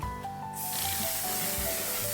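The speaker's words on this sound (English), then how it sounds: "Then I'm going to spray my skin with the One Size Until Dawn" One Size Until Dawn setting spray is misted onto skin as a close, loud, continuous hiss lasting almost two seconds after a brief quiet start.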